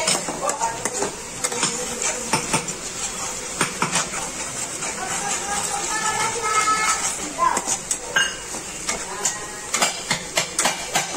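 Chopped onions frying in a home kitchen pan for pav bhaji, a steady broad sizzle running throughout with frequent clinks and scrapes of a utensil stirring against the pan.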